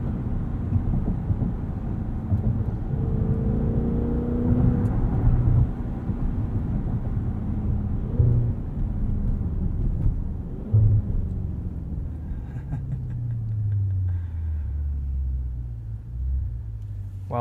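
Maserati Levante SUV on the move, a steady low engine and road rumble throughout, with a deeper drone toward the end, no voices.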